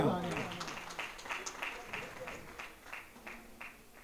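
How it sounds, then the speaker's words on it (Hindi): Faint, scattered clapping from the crowd at a community marriage-introduction gathering, irregular hand claps under a speaking voice that opens the passage. "तो इनके लिए जोरदार तालियां"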